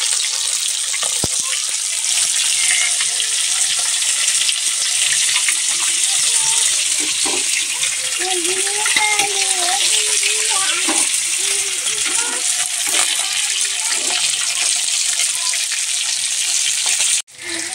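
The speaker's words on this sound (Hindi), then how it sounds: "तो मछली को तल रहे हैं" Black fish fries in hot oil with a loud, steady, close sizzle and crackle that never lets up, plus occasional clinks of a utensil, ending abruptly near the end.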